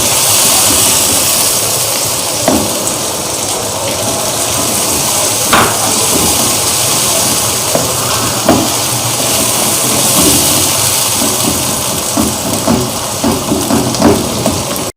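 Tomato masala with chilies frying in a cooking pot makes a steady, dense sizzle with scattered small pops and crackles. It runs close and fairly loud with no voices.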